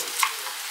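Rice being stir-fried in a pot, a short soft scraping and sizzling rustle, faint and brief with no talk.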